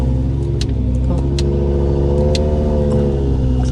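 A tuned Audi RS3 revs hard and accelerates at a VMAX200 top-speed event, a loud, steady engine roar with climbing pitch and a few sharp pops, up close and without voices.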